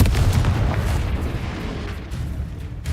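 Confringo blasting spell exploding in the Hogwarts Legacy video game, a heavy booming blast with a deep rumble that fades out over a few seconds.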